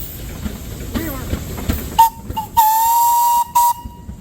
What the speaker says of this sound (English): What's that peanut whistle sound like?